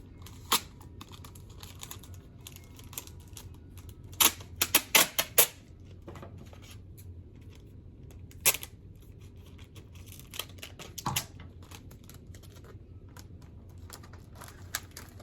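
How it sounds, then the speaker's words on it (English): Tape being pulled and pressed around plastic water bottles for winter sowing outdoors, heard as sharp crackling rips and crinkles in short bursts over a quiet background, close by with no speech. "So let me go ahead and get these taped up."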